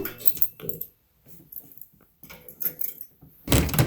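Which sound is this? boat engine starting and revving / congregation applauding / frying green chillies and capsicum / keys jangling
keys jangling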